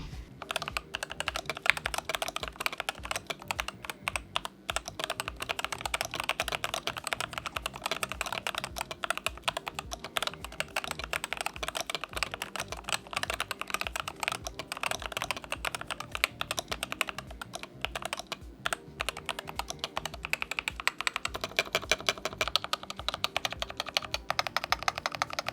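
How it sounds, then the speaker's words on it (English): Steady, fast typing on a CYBER01 budget gaming keyboard with magnetic switches, a dense run of close clicks and clacks that carries on without pause and with no talk. "the sound is pretty nice. Again, it's based on the structure of the keyboard and Keycaps magnetic switches"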